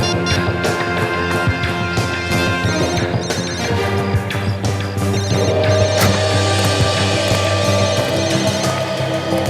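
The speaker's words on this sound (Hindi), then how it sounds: "फोन की रिंग जैसी आवाज है।" A phone rings steadily amid a dense wash of loud, continuous background noise, the ring tone persisting without pause.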